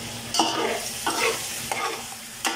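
Chicken pieces for pininyahang manok being stirred in a hot frying pan with onion, garlic, ginger and pepper: four distinct scraping stirs at roughly even intervals over a continuous sizzle, close and moderately loud.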